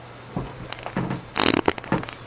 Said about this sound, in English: You get a little duck fart.